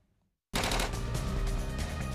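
Sustained machine gun fire at the India–Pakistan border erupts suddenly after a moment of quiet, a loud, dense burst of rapid overlapping shots that continues without pause.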